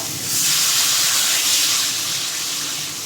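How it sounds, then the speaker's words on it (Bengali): Water poured into a hot pan of spiced fish curry with taro and potato, giving a steady hissing, steaming rush that swells after a moment and holds at close range, alone without voices. "এখন জল দিয়ে দেবো"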